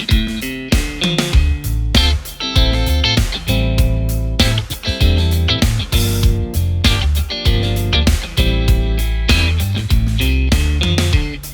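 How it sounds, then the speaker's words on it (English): Electric guitar strums a sequence of minor seventh chords in a steady rhythmic pattern, full and sustained, with no voices. "this first guitar is actually straightforward. I'm just playing minor 7th chords"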